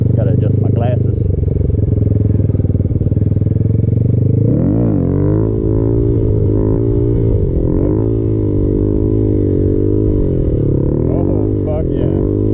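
A Honda Grom motorcycle engine drones steadily while the rider pulls handbrake wheelies, its pitch rising and falling in revving waves, with someone talking over it.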